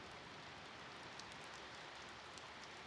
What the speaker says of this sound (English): The rain still hadn't stopped.